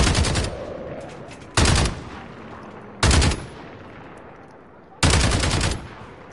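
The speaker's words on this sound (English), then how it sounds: "No, I'm shooting at them." Sharp bursts of automatic gunfire from Call of Duty Warzone ring out in four separate volleys, each loud and close, with quiet gaps between them.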